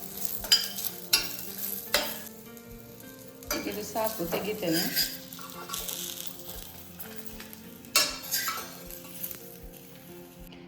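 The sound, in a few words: garlic and onion frying in pan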